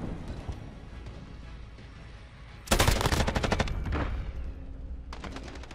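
A burst weapon in Call of Duty: Modern Warfare fires a loud, close rapid burst, followed by a shorter second burst after a brief pause.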